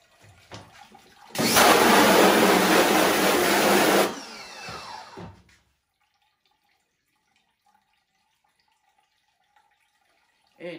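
Water spraying emulsion out of a screen-printing screen: a loud, steady hiss of spray for a few seconds, then softer splashing and dripping that fades into near silence.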